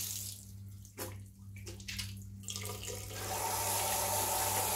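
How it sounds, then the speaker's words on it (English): Steady running tap water splashing over hands at a sink during a handwashing demonstration, a continuous close hiss with brief shifts as the hands move under the stream. "Now let's wash our hands with water."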